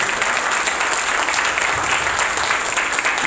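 A congregation at a church service applauds in a steady, dense wash of clapping, loud and continuous throughout with no break or voice over it.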